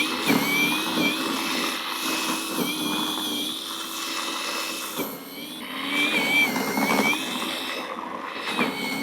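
A SiLVEL 40V electric snow shovel chews through packed-down snow with a steady whining motor drone that rises and dips in pitch as it works, loud and close.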